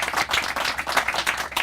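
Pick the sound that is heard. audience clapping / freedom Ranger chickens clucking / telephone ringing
audience clapping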